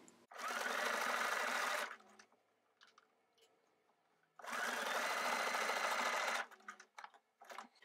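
A sewing machine stitches through microsuede fabric for a doll jacket, running in two steady, loud bursts of about two seconds each, separated by a pause filled with small handling clicks and rustles.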